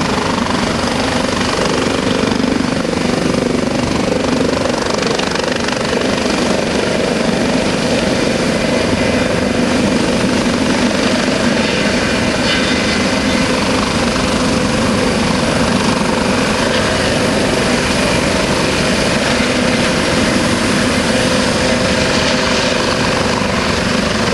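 United States Coast Guard search and rescue helicopter hovering close overhead during a hoist demonstration, a loud, steady thudding rotor roar with turbine whine that runs unbroken throughout, no voices.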